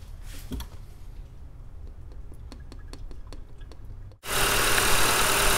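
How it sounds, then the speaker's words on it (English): A 2022 Audi car engine idles steadily with faint ticking during an oil change, then abruptly jumps to a much louder, broadband roar for the last second or so. "Alright, so with the engine running,"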